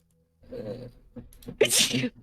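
A single close, sharp sneeze bursts out after a brief inhaling buildup, alone without talk.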